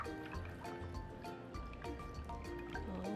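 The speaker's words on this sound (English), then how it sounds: "Now we're gonna pour all of our eggs into the pan." Beaten eggs poured into a 9x13 pan give a soft, close trickle and wet squishing that runs steadily for a few seconds, with faint drips and no talking.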